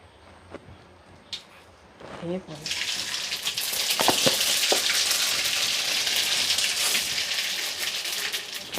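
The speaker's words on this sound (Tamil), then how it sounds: "கடுகு போட்டுடலாமா" Mustard seeds crackle and sizzle in hot oil in a home kitchen, a dense crackling hiss that swells up suddenly and holds steady and close, with a few sharp pops and a brief voice before it.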